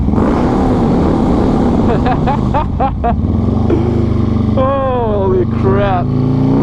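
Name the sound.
Harley 120R Twin Cam motorcycle engine revving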